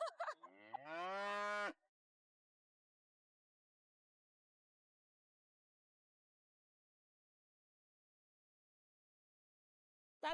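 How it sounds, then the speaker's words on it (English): A single loud, close cow moo at the start, from cattle coming down to drink at a frozen river near Arshan in -40°C cold, followed by long near-total silence. "The cattle are coming to drink water from the motionless river on the side of Arshan."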